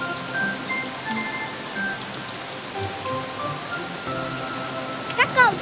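Steady rain falls in a cartoon scene, a constant hiss of drops on surfaces throughout, with faint tonal sounds drifting over it and a brief chirpy voice-like flourish near the end.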